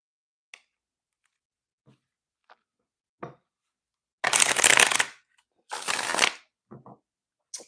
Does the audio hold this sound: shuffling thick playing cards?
yes